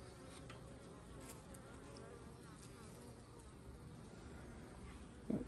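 Honey bees buzz around an open beehive during an inspection, a faint continuous droning swarm with individual bees passing near, and a brief knock at the end.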